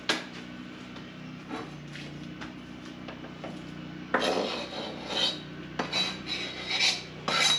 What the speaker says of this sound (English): Now I'm going to add my shrimp.